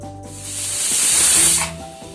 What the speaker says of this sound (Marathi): आपल्या 5 शिट्ट्या झाल्यात कुकरच्या